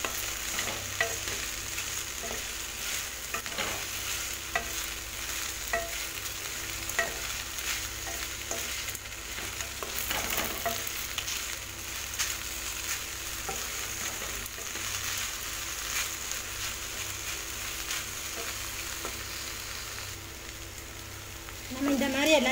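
Okra stir-fried in a pan with onion, curry leaves, green and dried red chillies, salt and cumin powder crackles and sizzles continuously, broken by scraping stirs of a spatula, close and fairly loud.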